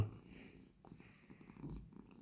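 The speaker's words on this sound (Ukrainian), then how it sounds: "Мурчить." A Persian cat recovering the day after a vaccination purrs softly and steadily up close, a faint low rhythmic rumble in a quiet room.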